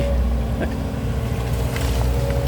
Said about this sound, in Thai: เครื่องยนต์ 4 สูบคอมมันเร็วครับ 4JJ